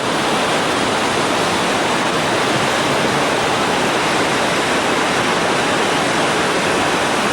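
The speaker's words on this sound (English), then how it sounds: "These are the rapids right above the upper falls of the Yellowstone River" Loud, steady roar of river rapids just above the Upper Falls of the Yellowstone River, a dense wash of churning water rushing continuously, with no voices.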